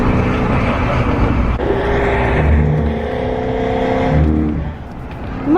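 A Ford Mustang GT350 rumbles loudly nearby, its exhaust crackling and popping as it revs and eases off, with engine tones rising and falling over several seconds.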